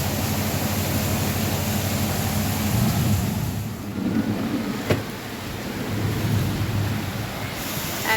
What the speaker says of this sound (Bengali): সাংঘাতিক বৃষ্টি নেমেছে, সাংঘাতিক। পুরো চারিদিক অন্ধকার, নদীতে বাজ পড়ছে সেরকম।